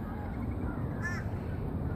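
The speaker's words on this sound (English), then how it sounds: "Look at all these crows as well." Crows caw briefly at a distance, a short harsh call or two rising over steady outdoor background noise.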